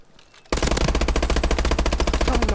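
Rapid automatic gunfire in the Call of Duty Advanced Warfare multiplayer game bursts in suddenly and hammers on in a fast, even, loud stream of shots.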